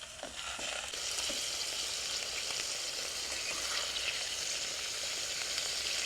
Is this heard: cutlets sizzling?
yes